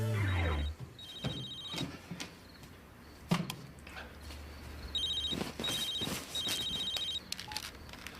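A telephone rings indoors at night in a television comedy scene, sounding in several repeated electronic trills at a moderate level, with a low thump and some faint background movement.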